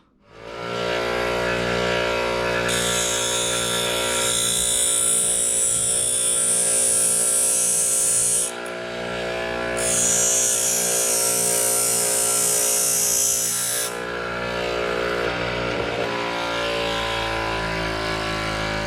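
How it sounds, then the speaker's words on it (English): Bench grinder grinding down the cutting edges of Tapcon masonry drill bits, a steady high whine that runs continuously with two stretches of bright, harsh metal-on-wheel grinding, loud and close without speech. "taking the edge of these and grinding down the edge just a little bit"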